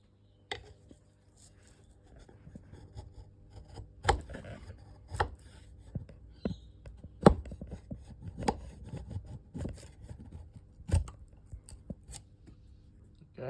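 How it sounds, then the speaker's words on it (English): A chisel and then a rasp shave a wooden handle for an old tomahawk head, giving irregular dry scraping strokes with sharper bursts, close and fairly quiet. "just a little bit of shaving with the chisel and then a touch up with the rasp"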